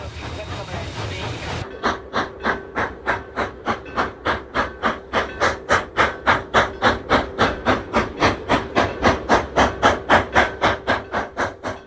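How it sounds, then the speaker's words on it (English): A steam locomotive pulling a heavy train chugs hard and steady on rain-slick rails through a switch, its exhaust beats coming in a fast, regular rhythm with hissing steam, loud and close throughout. "Rain-slick rails cause the engine to slip as it pulls the heavy train through a switch."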